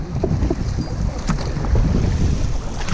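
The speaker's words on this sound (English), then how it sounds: "Don't stop paddling." A paddling crew moves a boat through the water during practice, with a steady wash of water and heavy wind buffeting the microphone; paddle strokes are not distinct.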